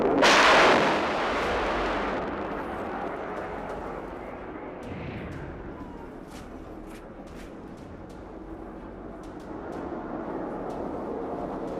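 Explosions during a night attack in Sirsa, Haryana, opening with one loud, heavy blast that fades into a long rumbling roar, followed by scattered faint sharp cracks.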